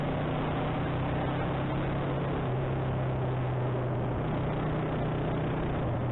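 Motorcycle engine under way during riding, a loud, steady drone blended with heavy wind rush that stays constant throughout, with no voices.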